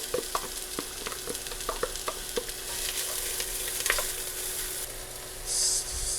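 Onions fry in warmed avocado oil in a pan, a steady soft sizzle broken by repeated scraping stirs in the first half, close and fairly quiet, with no talk.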